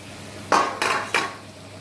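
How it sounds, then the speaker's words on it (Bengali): Chunks of young jackfruit tipped into a wok in three quick batches. Each drop lands as a short, clattering metallic thud followed by a brief hiss, all close by with no voices. "এই তো ইঁচড়েরা আসছে, এবার কড়াইতে ঝাঁপ মেরে দিল ইঁচড়েরা।"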